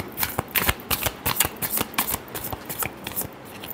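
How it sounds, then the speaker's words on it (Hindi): Tarot cards being shuffled in a steady run of crisp riffling flutters and soft slaps, close and fairly loud with no talking over them. "Last shuffle."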